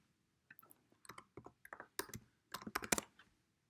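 A computer keyboard during a compiler-construction lecture, with a burst of close, quiet key clicks in irregular clusters followed by a firmer press of the enter key, no talking.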